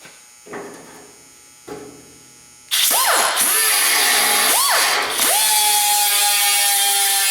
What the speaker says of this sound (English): so I got my little area ground down here